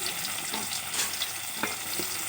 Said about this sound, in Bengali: তেল গরম হয়ে গেছে, এখন আমি আস্তে আস্তে করে মাছগুলো ছেড়ে দেব।